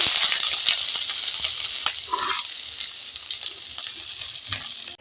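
Chopped ginger dropped into hot oil with bay leaves, a steady loud sizzle that fades slightly over a few seconds, no voices.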